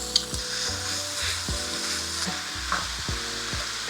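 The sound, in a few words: ground beef mince frying in a pan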